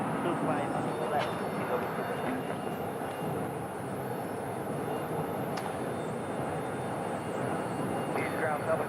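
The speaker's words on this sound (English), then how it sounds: "This plane that you're looking at right now is going to be flight 2408, headed to San Francisco" A passenger airplane, flight 2408 bound for San Francisco, sits at Phoenix Sky Harbor Airport at sunset, its engines giving a steady, continuous roar, with faint voices under the drone.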